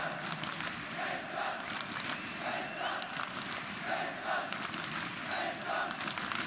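Arena crowd roaring and cheering at a CS:GO esports semifinal (ESL One Cologne 2017, FaZe vs SK Gaming), a steady, dense wall of voices with rhythmic swells, like chanting, throughout.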